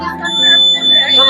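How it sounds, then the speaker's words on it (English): A buzzing, steady electronic alarm tone from an earthquake alarm model at a school science exhibition, loud and continuous with high whining pitches, under a voice talking nearby. "No, that is the alarm, na."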